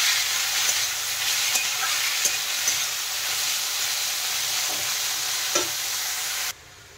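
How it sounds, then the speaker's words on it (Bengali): Boiled banana flower stirred and frying in a pan with fried onions, giving a steady close sizzle with scattered scraping stir sounds throughout, cutting off abruptly near the end. "মোচা দিয়ে দেওয়ার পরে আর একটু নেড়ে চেড়ে ভালো করে ভেজে নেব।"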